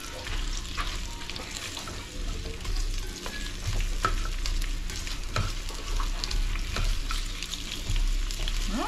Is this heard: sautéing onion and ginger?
yes